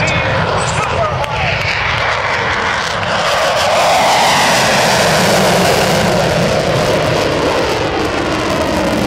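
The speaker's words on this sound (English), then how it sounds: "Look at the flame coming from the back of your United States Navy's A-18 Super Hornet." An F/A-18 Super Hornet jet engine roars loudly and steadily at an airshow, close by, a powerful sustained blast that swells slightly in intensity, with a voice talking over it.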